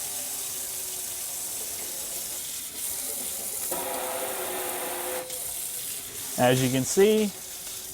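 Water running from an Empire Faucets RV kitchen faucet with a pull-down spout into a sink, a steady moderate stream under a person talking, with a louder gush near the end.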